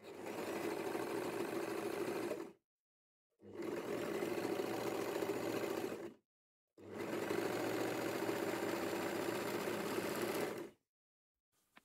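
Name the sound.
overlock sewing machine stitching fabric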